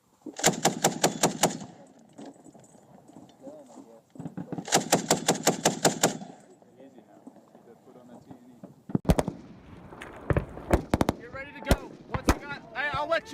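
Gunfire at a live-fire training exercise with inert rounds: two loud, close bursts of rapid automatic fire, a pause, then scattered single and short bursts of shots, with voices talking between them.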